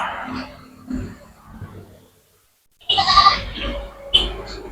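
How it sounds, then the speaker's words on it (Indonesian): A goat bleats loudly and close by in several harsh, wavering calls, with a short quiet gap before a louder run of overlapping bleats. "Kenapa kambing ini berteriak terus?"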